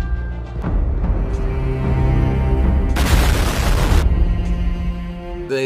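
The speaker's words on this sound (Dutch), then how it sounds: "Echt alle trailers eindigen tegenwoordig met een explosie." A booming explosion-like burst at the end of an E3 video game trailer, a dense noisy blast of about a second cutting through loud, sustained trailer music, which then drops out abruptly.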